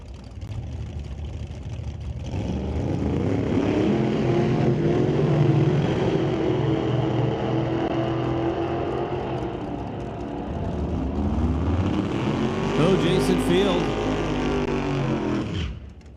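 A 1968 Plymouth Cuda drag racer with a 6-liter Hemi roars down the strip on a pass, its engine rising in pitch through the gears, loud and fairly near, with no talking.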